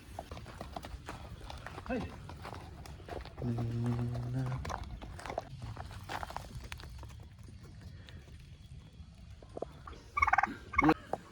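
A turkey gobbles in a short harmonic burst, with footsteps and light outdoor noise around it and another quick call near the end.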